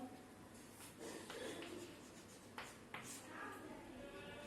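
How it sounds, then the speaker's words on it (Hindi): Chalk or marker scratching across a classroom board during a biology lesson, a steady rubbing scrawl with a few sharper taps, close and fairly quiet with no one talking over it. "यही लिख देता हूं मैं, यहां लिखता हूं"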